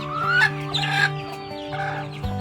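Siruvidai country hens and roosters on a traditional farm cluck loudly and close by, a few drawn-out calls rising and falling over about two seconds.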